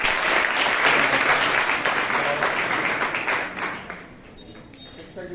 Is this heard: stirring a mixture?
no